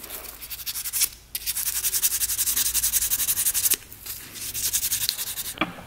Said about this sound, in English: take a little sandpaper and we're gonna scrub that off a bit